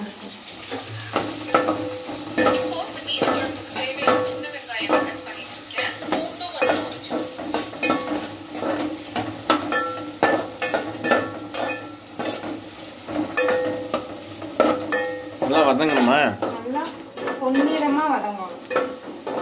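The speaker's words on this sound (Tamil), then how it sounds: "பொன்னிறமா வதங்கணும்" Onions are sautéed until golden in a pan, giving a steady sizzle throughout with repeated scraping stirs and occasional clinks of a utensil against cookware. No voices are heard.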